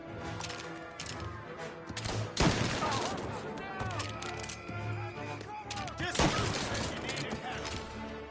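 Gunfire during a rooftop chase in Mafia Definitive Edition, with two loud sharp shots standing out among rattling bursts and clatter, and game voices talking in between.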